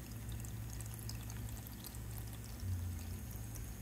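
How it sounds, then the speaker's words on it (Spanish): A small decorative water fountain trickles steadily with no one speaking, its soft, continuous splashing carrying a faint low hum. "Les compré esta fuentecita para que les hiciera ahí ruidito y se escuchara hoy."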